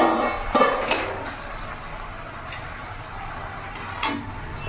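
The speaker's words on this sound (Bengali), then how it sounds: "এবার ঢাকাটা খুলে দেখো" A lid comes off a wok of cabbage curry cooked without added water, with a sharp metallic clink, a few lighter clatters, and another clink near the end, all close and fairly quiet.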